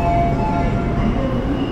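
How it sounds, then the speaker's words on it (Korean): A New York subway train standing at a platform behind screen doors, a steady loud rumble and hum with faint tonal whine from the car, continuous for under two seconds with no talk. "그 안쪽으로 지하철 전동차가 정차를 하게 되면 문이 이중으로 같이 열리게 되는 그런 형식입니다."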